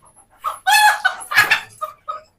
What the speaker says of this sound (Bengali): হ্যাঁ, সব পাকিস্তানি মুরগিগুলো